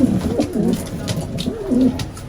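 Racing pigeons coo in a loft, two soft rolling calls close by, one at the start and another near the end, with quiet rustling between.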